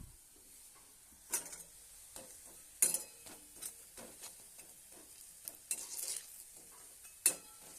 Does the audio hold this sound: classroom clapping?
no